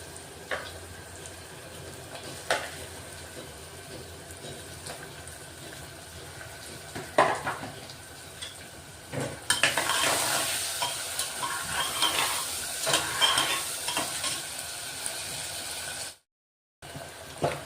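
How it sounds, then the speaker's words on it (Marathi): Tomatoes are added to sautéed onions in a hot pan, and a steady sizzle swells suddenly louder as they go in. Occasional stirring scrapes sound close by, and a brief silent gap comes near the end, with no talking. "कांदा चांगला परतून झाला की आपण टोमॅटो टाकतोय"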